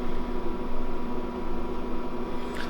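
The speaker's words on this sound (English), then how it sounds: "It's actually the fan. You can't really hear the compressor." A small cooling fan on a portable camping fridge runs with a steady, even whir and a low hum, close by and alone for nearly three seconds.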